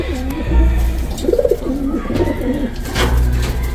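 Pigeons coo in a breeder loft, a few soft rolling calls close by, rising and falling in short bursts over a low background hum.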